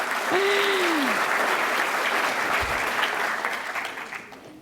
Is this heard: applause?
yes